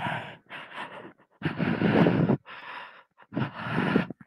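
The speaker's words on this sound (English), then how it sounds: "Do you hear her breathing?" Woman breathing heavily right against a microphone: rhythmic, breathy inhales and exhales in separate bursts with short pauses between, loud and close.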